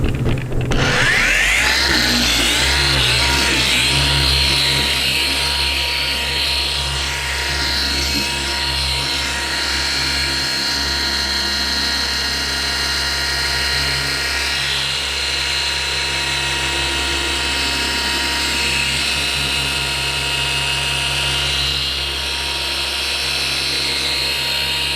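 Car polisher buffing automotive paint during a polishing step, a steady loud motorized whir with a constant hum that holds evenly for the whole stretch, alone without voices.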